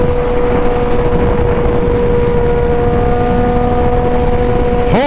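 A sport motorcycle with a wide-open aftermarket Aero exhaust runs at a steady, loud, close-up drone with a strong tonal hum, at a motorcycle meet in Miami, with no talking.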